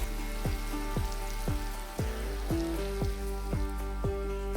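Chunks of potato and pumpkin fry in a pan while being stirred, giving a steady, close sizzle with a regular pulse of stirring and scraping throughout.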